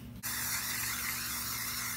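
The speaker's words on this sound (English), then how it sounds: "spray your waffle pan once it's steaming and hot with non-stick cooking spray" A continuous hissing spray from a can of non-stick cooking spray onto a hot waffle iron bursts on after a brief pause and keeps going steadily, close by.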